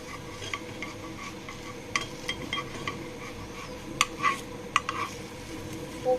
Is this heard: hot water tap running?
no